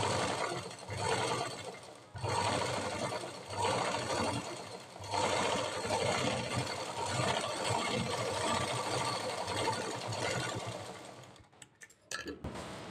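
A sewing machine stitches a blouse shoulder seam in long, steady whirring runs, broken by short pauses and ending with a few faint clicks, close and fairly loud, with no talking.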